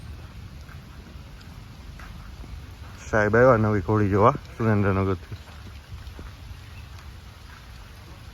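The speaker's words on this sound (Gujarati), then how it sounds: "અત્યારે વરસાદ ચાલુ થયો" Rain falls steadily outdoors near a horse stable, a low, constant patter under a man's brief spoken remarks.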